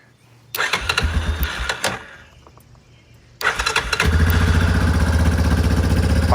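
An engine cranks with a rapid chattering starter for over a second, falls quiet, then fires up on a second try and settles into a steady, loud, throbbing idle close by.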